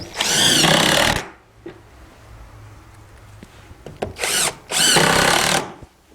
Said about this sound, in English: Screw that tight to the building.